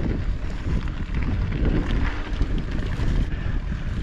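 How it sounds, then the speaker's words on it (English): Steady, loud wind buffeting a microphone during a mountain bike ride on the Strawberry Narrows Trail at Strawberry Reservoir, Utah, riding into a headwind; a continuous low roar with gusty swells and no talk. "Once again, the wind is coming at the head."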